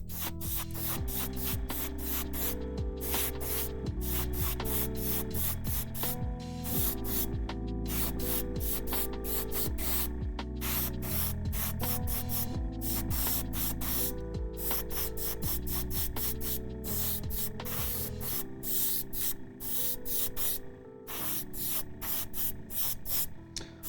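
An airbrush sprays matte varnish in a steady, continuous hiss that runs for the whole stretch, set against a constant tonal background.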